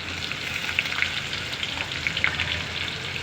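Sliced onion and green chilies fry in a pan, a soft continuous hiss dotted with small popping crackles, close and even, with no one talking.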